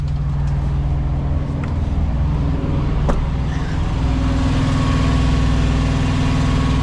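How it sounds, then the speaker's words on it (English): A truck's auxiliary power unit runs nearby with a loud, steady low engine drone that never lets up, with a brief faint knock partway through. "All right, and the APU is on, so sorry about the noise."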